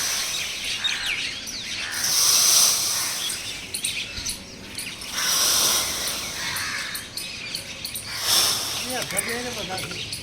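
Crows, mynas, parrots and pigeons gathered on a rooftop where grain is scattered, their chirps and calls rising in waves over a steady outdoor hiss, with a person talking over them.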